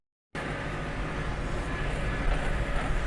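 A tractor pulling a Lemken Smaragd cultivator across rapeseed stubble; a dense, steady mechanical roar of engine and soil-working noise starts abruptly after a brief silence and continues at constant loudness.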